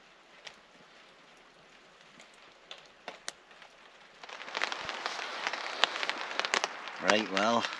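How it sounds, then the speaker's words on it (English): Rain falls on a tarp over a hammock camp in the woods: sparse, quiet drips and taps at first, then a denser patter of drops, with a brief voice-like sound near the end. "It's been raining non-stop all night."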